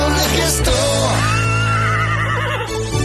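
A horse neighs loudly and at length, close up, the call rising and then wavering into a long whinny with a steady low background hum underneath.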